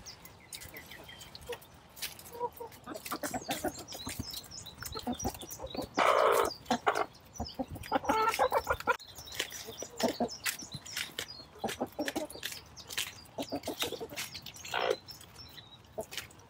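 Chickens cluck in a vegetable garden on an early May morning, with scattered soft clucks and a few louder squawking calls at a moderate distance, and no talk.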